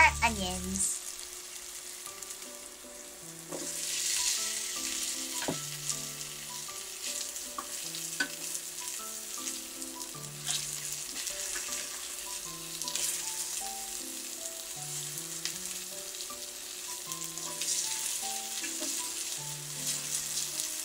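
Onions fry in a pan for a cream stew, a continuous close sizzle with soft stirring scrapes throughout, layered over background music.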